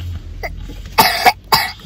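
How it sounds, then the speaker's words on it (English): A person coughs close by, two or three harsh, abrupt bursts in quick succession after a short faint murmur, loud against an otherwise quiet room. "You're coughing?"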